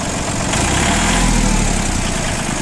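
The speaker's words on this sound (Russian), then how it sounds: "Поэтому такой тракторочек работает достаточно ровно, без проблем. На газ отзывается максимально быстро." A Japanese agricultural tractor fitted with a loader and rotary tiller runs steadily at idle, a loud, close, even engine drone with constant low rumble and mechanical rattle and no voices.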